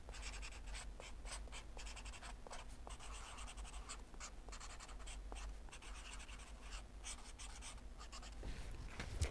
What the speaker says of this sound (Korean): 백범 김구 적어주시고요.